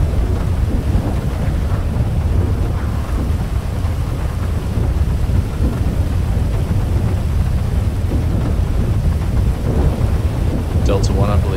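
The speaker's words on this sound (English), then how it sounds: "Raining quite hard." Heavy rain pours in a dense, constant roar with low thunder-like rumble and wind buffeting the microphone, filling the scene evenly from start to finish.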